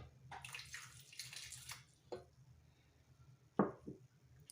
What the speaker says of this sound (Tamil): இப்போ இதில் நான் கொஞ்சோண்டு பால் சேர்த்துக்கிறேன்